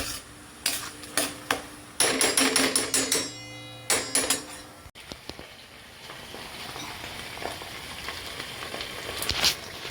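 Chopped tomatoes fry in oil for a paneer capsicum curry: a burst of sharp metallic clanks and taps from a utensil against the pan, followed by a steady, close crackling sizzle.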